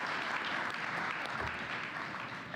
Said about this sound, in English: I think that deserves a big applause